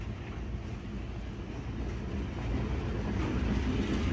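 The end of a CSX freight train rolls past in a steady, dense rumble of wheels on rail, close and continuous, swelling slightly louder toward the end.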